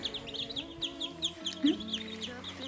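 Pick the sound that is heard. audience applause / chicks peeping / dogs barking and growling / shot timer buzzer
chicks peeping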